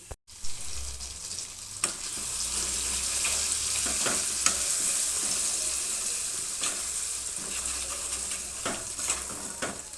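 Gongura and dried red chilli chutney mixture being stirred and fried in oil, a continuous close sizzle with intermittent spoon scrapes and clinks against the pan throughout.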